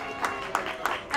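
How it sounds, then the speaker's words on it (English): A round of applause for a town supervisor at the kickoff of a 2019 Halloween parade: soft, distant crowd clapping with a few sharper claps at regular intervals, alongside faint crowd noise. "Give him a round of applause."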